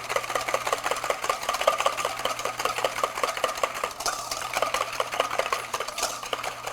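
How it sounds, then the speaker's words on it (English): Two large eggs whisked briskly in a bowl, a quick steady run of light rhythmic clicks and taps with no talk. "I have 2 large eggs. Have your eggs at room temperature. A large egg weighs about 55 grams in the shell, and you want to really whisk those"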